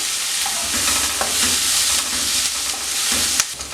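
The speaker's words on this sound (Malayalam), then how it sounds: "സോള നല്ലതുപോലെ ഒന്ന് വഴറ്റിയെടുക്കാം ഇത് നല്ലതുപോലെ ഒന്ന് വാടി വരട്ടെ" Sliced onions and curry leaves sautéing in a pan, a steady close sizzle and hiss throughout with a few light stirring scrapes, no voices.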